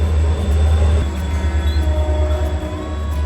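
Rocky Mountaineer deluxe passenger train passing near Pemberton, a loud continuous low rumble with steady wheel and rail noise and faint high squeal tones, close and constant throughout.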